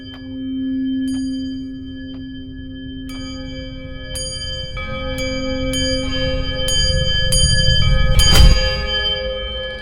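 An old disused bell hanging in a room rings as it swings in an audio drama, with clear repeated metallic strikes ringing out over a low humming drone, building toward a louder clang near the end.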